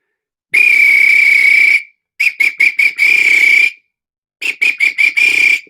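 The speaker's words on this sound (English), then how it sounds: "Whistles are going." Shrill whistles blow loudly in bursts: one long blast, then a run of short toots into a sustained tone, a pause, and another quick series of short toots ending in a held note.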